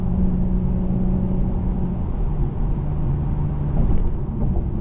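The turbocharged V6 of an Acura TLX Type S on summer tires powers through a bend, a steady low engine rumble and road drone heard from inside the cabin without speech.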